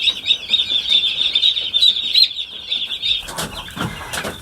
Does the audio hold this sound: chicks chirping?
yes